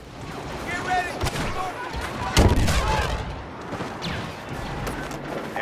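Video game gunfire, scattered heavy shots and booms over a dense, noisy battle background, with one louder blast near the middle and a voice speaking under the action.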